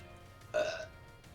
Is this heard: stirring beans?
no